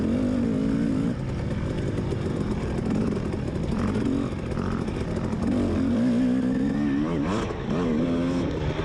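A dirt bike races along a hare scramble trail in a Mid East/AMA East round, its engine revving hard and close without pause, pitch rising and falling as the rider works the throttle over rough ground.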